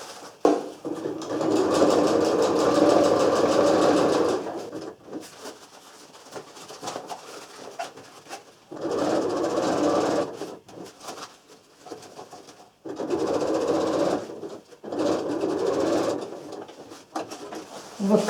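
A sewing machine stitches a seam on a handmade travel bag, running in three or four bursts of steady mechanical whirring separated by short pauses and handling noises.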